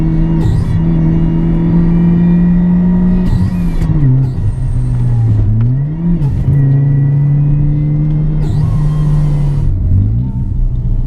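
A supercharged Ford Ka engine revs hard through the gears, a loud, close droning whine that climbs steadily, dips briefly at each shift, then climbs again, with no voices over it.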